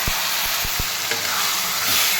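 A ridge gourd and okra curry fries in a pan with a steady, loud sizzle while a spoon stirs it, giving a few dull low knocks against the pan early on.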